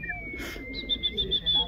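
Pigeons coo and chirp in a repeated series of short, high calls, with a brief rustling burst early on and faint voices underneath.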